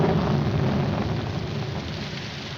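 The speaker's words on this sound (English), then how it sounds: "Put this top up. It's going to rain." Steady rain falling outdoors, a dense continuous hiss with a low rumble, holding evenly for a few seconds with no voices.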